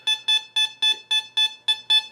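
A metal detector sounds over a buried coin, giving a loud, steady series of nine evenly spaced electronic beeps close up, each a bright tone with a sharp start, and no voices.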